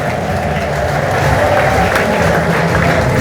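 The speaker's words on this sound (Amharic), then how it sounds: "ለኢየሱስ እልልታ፣ ጭብጨባ፣ ክብር ይሁንለት።" A church congregation applauding and ululating for Jesus during a prophetic service, a dense, loud, continuous wash of clapping and crowd noise close by.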